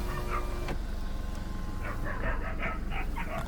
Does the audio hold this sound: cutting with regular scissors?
no